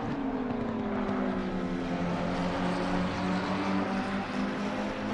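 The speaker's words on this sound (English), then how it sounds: "And so, only engine sound" Racing car engine in a GT3 racing video game at Laguna Seca, a steady loud droning engine note with shifting pitch heard continuously from an onboard view, no talking.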